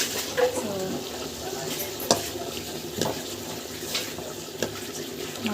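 Dried fish (karuvadu) being sautéed in a pan in a village kitchen, a soft continuous sizzle with occasional scraping clinks of a spatula against the pan.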